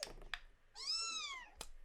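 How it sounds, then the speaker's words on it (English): A kitten gives one clear, drawn-out upset meow, rising then falling, close and fairly quiet, with a few soft clicks around it. "Kitten is upset."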